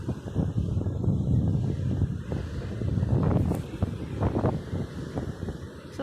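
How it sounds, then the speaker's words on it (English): Wind whipping up at a beach, a continuous rushing gust buffeting the microphone with rumbling low noise that swells and eases for several seconds. "Ooh, wind's whipping up."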